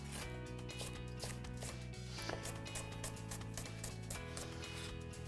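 A knife chops spring onions on a diagonal against a board in quick, regular, close taps, a steady rhythm of crisp cuts with a brief pause midway, set against a bed of soft background music.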